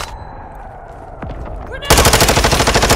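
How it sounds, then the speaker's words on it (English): Call of Duty Warzone DMZ gunfire: a quiet stretch with a few faint sweeps, then a loud, sustained automatic burst of rapid, evenly spaced shots, up close. "You are taking effective fire."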